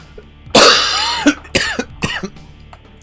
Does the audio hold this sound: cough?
yes